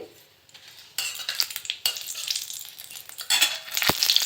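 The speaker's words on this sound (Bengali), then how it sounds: "তেলে দিয়ে দিচ্ছি দুটো শুকনো লঙ্কা ফোড়নে আর দিচ্ছি একটু পাঁচ ফোড়ন" Dry red chillies and panch phoron spices sizzle and crackle in hot oil, with scraping and stirring of a utensil against a pan, the frying growing louder toward the end.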